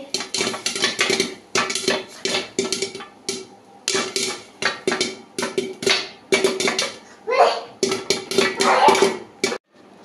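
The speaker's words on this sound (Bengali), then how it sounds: "এই যে এটা আমি গোল্ডেন সিজল পপকর্ন তৈরি করছি।" Golden Sizzle popcorn pops inside a covered pan over low heat, giving sharp, close, irregular cracks and rattling knocks against the lid in quick clusters with brief pauses between them.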